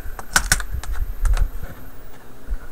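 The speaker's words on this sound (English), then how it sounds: "now when you lift your keyboard up" Plastic clicks and rattles as the keyboard is pried up and lifted out of a Dell Inspiron E1505 laptop, several sharp close taps in quick bursts followed by softer scattered knocks.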